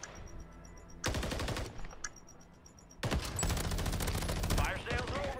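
Automatic gunfire in Call of Duty Warzone on Rebirth Island, two long rattling bursts of rapid shots separated by a quieter gap with scattered pops, loud and close, with players talking over it.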